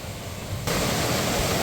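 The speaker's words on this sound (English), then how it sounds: "But here's the river." A river runs beside a hiking trail on the Pacific Crest Trail, a steady broadband rush of flowing water that swells louder partway through and then holds constant, with no voices.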